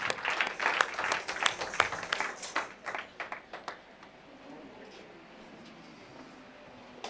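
Church congregation clapping in acclamation to God, a burst of loud hand claps that thins out and dies away into quiet room tone within a few seconds.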